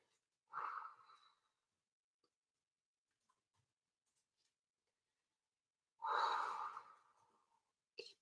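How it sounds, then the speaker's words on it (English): Two deep, slow breaths during a leg-rolling stretching exercise, each a soft, breathy exhale heard close and alone in a quiet room, separated by a long silent pause. "Breathing."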